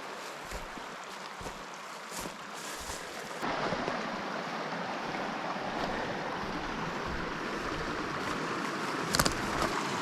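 Mountain stream in Rocky Mountain National Park, water rushing steadily over rocks in a broad continuous wash that grows louder partway through, with faint bumps and rustles up close.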